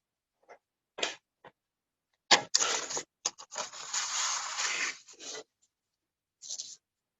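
Scissors cut curves into folded paper for a craft flower, giving short crisp snips followed by a longer run of scraping cuts, close and alone with no talk.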